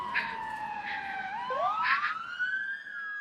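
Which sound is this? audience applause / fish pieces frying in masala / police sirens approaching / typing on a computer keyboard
police sirens approaching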